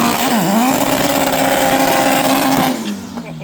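A drag racing car's engine on a quarter-final run, a loud sustained high-revving roar with a dip and climb in pitch early on, then fading as it pulls away.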